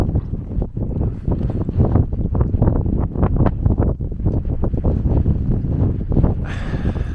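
Strong wind buffets the microphone in loud, continuous gusts, roaring and rumbling throughout with no voices.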